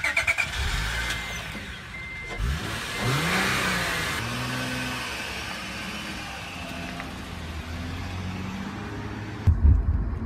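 A car engine idles and then revs as the vehicle pulls away and drives steadily, with rising and falling engine tones heard close up and a thump near the end.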